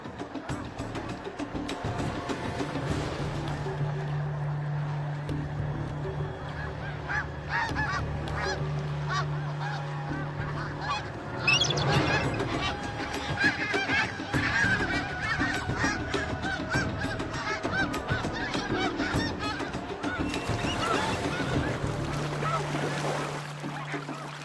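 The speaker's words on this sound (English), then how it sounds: "Snow geese have spectacular evasive maneuvers." A flock of snow geese honks continuously in the wild, a dense chorus of overlapping calls with wingbeats and windy noise, some nearer calls standing out over the distant mass.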